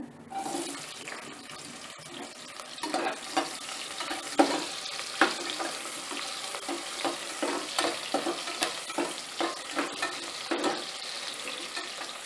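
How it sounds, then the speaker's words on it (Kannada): Onions frying in oil with cumin seeds for vegetable biryani cooked in a pressure cooker: a bright sizzle broken by repeated scraping and stirring strokes, close and moderately loud, with no talking. "ಈರುಳ್ಳಿ ಚೆನ್ನಾಗಿ ಫ್ರೈ ಆಗಬೇಕು"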